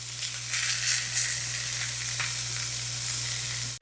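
Shrimp and vegetables sizzle steadily in a hot pan, a dense continuous frying hiss with a low steady hum underneath and occasional soft stirring scrapes, close and fairly loud throughout.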